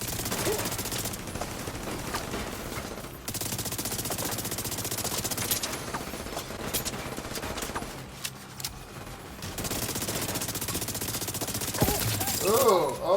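Rapid automatic gunfire in the video game The Division 2: dense fusillades of shots rattle almost nonstop, with short gaps between bursts, loud and close.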